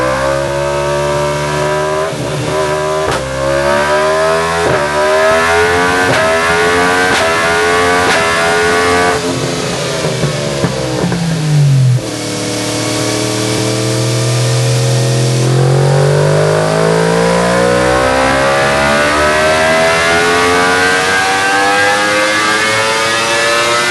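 A Yamaha R1 with velocity stacks and a custom tune revs hard on a dyno, a loud engine howl climbing through the gears with sharp shift breaks, then a long falling and rising sweep as it winds down and pulls again.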